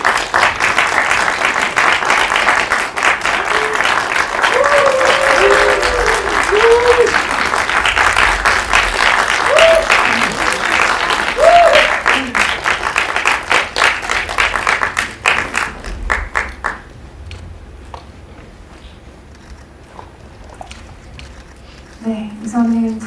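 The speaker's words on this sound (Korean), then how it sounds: "따뜻한 박수로 보내주시면 감사하겠습니다." Audience applause welcoming the director and actors into a Korean film press screening and Q&A, steady dense clapping from a large crowd that fades out after about sixteen seconds, followed by near silence.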